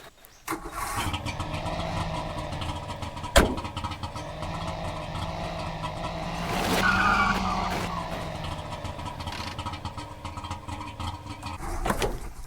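A car engine in The Long Drive cranks and catches with an odd, rough noise, then settles into a steady mid-pitched idle that swells and eases, with occasional sharp clicks.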